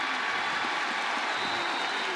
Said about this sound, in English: And a good crowd, a sellout crowd tonight loves it.